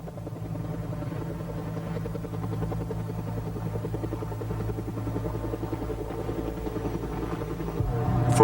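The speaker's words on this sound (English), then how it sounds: "Helicopters worked hard through most of Tuesday and Wednesday to slow the fire's advance" A helicopter works over a wildfire, its steady throbbing rotor beat and engine hum droning at a fairly constant level and growing slightly louder and closer in the final moments.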